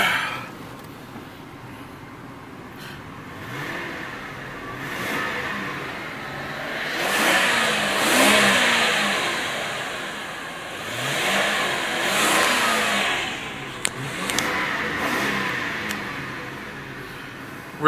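1999 Lincoln Town Car Signature Series V8 engine being revved in short bursts, several rising and falling surges over a steady idle, heard from close by with no talk.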